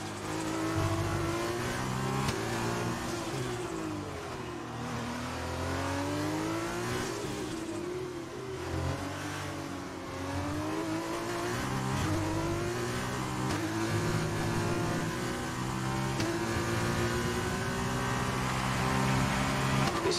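Sustained F1 2020 race car engine revving and accelerating in a video game at Barcelona, pitch rising and falling through gear changes, loud and continuous for the whole stretch.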